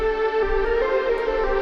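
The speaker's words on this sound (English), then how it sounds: "I'm gonna use this nice soft lead called Boards of Celine." Soft ambient synth lead, the Boards of Celine preset in Analog Lab 5, holding a steady sustained tone with warm harmonics and a low rumble beneath, moderately loud and alone without voices.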